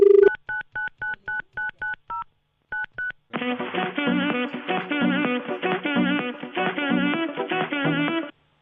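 A telephone number being dialed, with a quick run of evenly spaced touch-tone beeps, a short pause, two more tones, then a dense burst of sound filling the rest.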